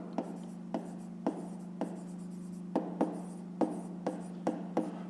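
Pen or pencil strokes on paper while working a fifth-grade maths exercise, a series of short, close scratchy taps spaced irregularly over a steady low hum.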